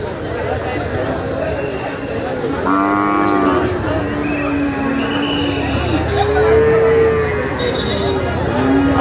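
Cattle moo repeatedly at a busy Bangladeshi cattle market with thousands of people and cows, the calls rising over a constant crowd hubbub and nearby talk.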